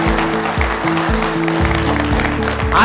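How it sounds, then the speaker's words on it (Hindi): Loud, dense applause from an audience at an LIC of India organisation gathering, sustained throughout with a steady musical tone running underneath. "एक बार जोरदार तालियां हमारी ऑर्गेनाइजेशन के लिए बना।"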